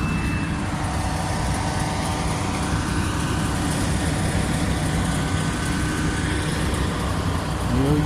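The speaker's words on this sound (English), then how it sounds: "I'm trying to talk a little louder since I'm next to a bus" A bus idles close by at a hot camp roadside, producing a loud, steady low engine rumble that runs unbroken throughout, alone with no talk.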